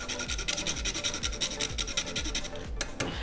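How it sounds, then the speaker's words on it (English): Fresh cinnamon is rubbed over a grater in quick, rhythmic rasping passes, several strokes a second, close and steady. "I'm going to take some fresh cinnamon and just do a couple of passes over the grater."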